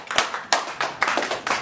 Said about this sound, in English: Yeah, Hector, give him a round of applause.